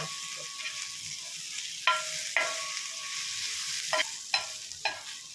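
Onions sauté in a pan as crackling sizzle runs steadily beneath several sharp scrapes and clicks of a stirring spoon, with no one talking.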